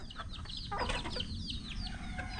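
Hens and chickens cluck in a backyard flock kept with ducks, rapid overlapping high calls and chirps from several birds close by, over a steady low rumble of background noise.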